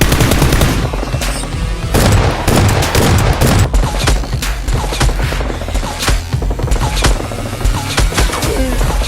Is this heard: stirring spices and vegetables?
no